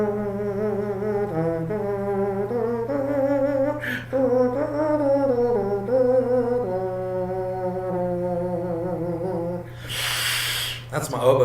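A person imitates an oboe with their voice, humming a reedy, wavering melody that slides between pitches for several seconds. A breathy burst of noise comes near the end.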